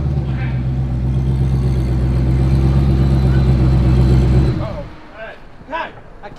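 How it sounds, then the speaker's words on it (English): A 1000+hp turbocharged Camaro does a burnout inside a shop, its engine roaring loud and steady with dense tire and exhaust noise for about four seconds, then cutting out abruptly, leaving faint voices and shop noise. "Burnout in the shop."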